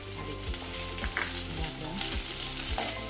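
Peanuts frying and sizzling in hot oil with ginger, chili and garlic paste, stirred in a pan; a steady, loud crackling sizzle runs throughout with scraping stirs every half second or so.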